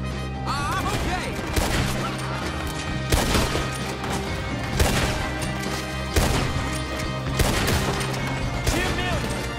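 Gunfire in Red Dead Redemption 2 during a shootout: loud, repeated shots and cracks come every second or two over a dense, busy game mix, with talk now and then.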